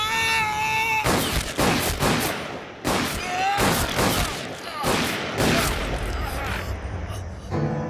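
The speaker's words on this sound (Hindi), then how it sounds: "किसने गोली चलाई है?" Gunfire in a Hindi-dubbed Suriya action film scene comes as loud, sharp bursts repeated several times across a tense soundtrack, mixed with raised voices.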